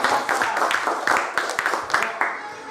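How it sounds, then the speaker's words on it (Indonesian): Schoolchildren in a fourth-grade classroom clap their hands in a quick, fairly close burst of separate claps, with children's voices audible among the clapping. "tepuk tangan dulu buat Ozil"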